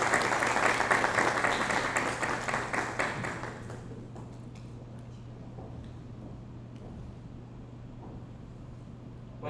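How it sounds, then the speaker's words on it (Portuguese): Audience applause at a public policy forum welcoming speaker Braulio Lara, a dense patter for about four seconds that cuts off into quiet room hum. "Receba com a salva de palmas,"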